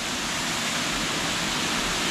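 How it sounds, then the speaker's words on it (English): Water flows below a bridge near a dam in Tanzania, a steady broadband rush that holds even and unbroken throughout, with no voices over it. "So you can see down there water flowing"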